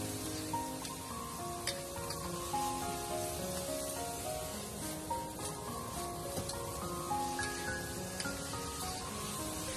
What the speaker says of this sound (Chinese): 再把洗干净的豆芽倒进来，这是开大火快速的给它翻炒均匀